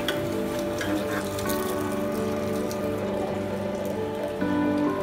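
A sugarcane juice machine runs at high speed, a steady dense whir with tonal hum and a wet, splashing texture, loud and continuous with no pauses.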